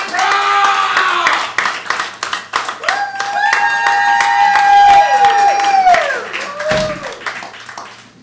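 A live audience at a Pop-Up Improv comedy show in Oklahoma City claps and cheers, with scattered hand claps under loud sustained whoops and rising and falling shouts that taper off near the end.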